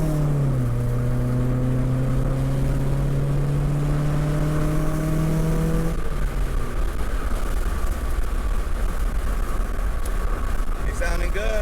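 A Honda CRX engine on its first drive after sitting unused, revving hard under acceleration with rising harmonic tones that climb for several seconds, then giving way to broadband road and wind rush.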